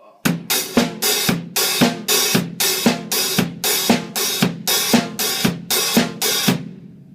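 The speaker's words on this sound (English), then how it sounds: "The distinctive thing about the disco is the opening and closing of the hi-hat" Drum kit playing a disco beat, hi-hat opening and closing in a steady four-on-the-floor groove; thirteen evenly spaced loud hits ring with crisp cymbal wash, close and alone before a short decay at the end.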